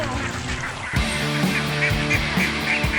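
Ducks being herded into rice paddies beside their pen quack and honk loudly and close by. The calls come repeatedly in overlapping bursts over a busy flock murmur.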